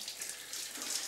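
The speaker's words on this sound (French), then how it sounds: "C'est maman qui savonne toujours sa fille sous la douche." Shower water running steadily while a mother soaps her three-year-old daughter, a soft continuous hiss of spray, fairly faint and unbroken, with no talk.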